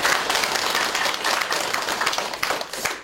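Applause from an audience at a Buddhist college event in Yeongdong rolls on steadily for about three seconds, a dense wash of clapping with no voices over it.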